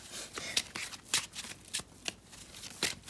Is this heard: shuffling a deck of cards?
yes